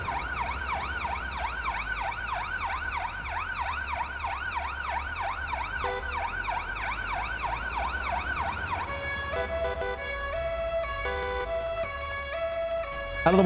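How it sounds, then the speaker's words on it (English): An old-fashioned London ambulance siren wails loud and steady in a paramedic driving game, a continuous rising-and-falling two-tone cycle that switches to a faster, choppier pattern near the end. "There's the old good old-fashioned London siren."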